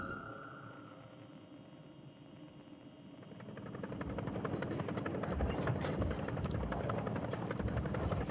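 A small towboat's low diesel engine in the video game Static Dread: The Submarine drones steadily, growing louder partway through into a dense, rhythmic chugging hum, with no voices.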